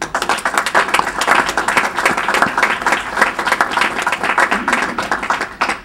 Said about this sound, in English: let's give a round of applause to Reverend Wendell Anthony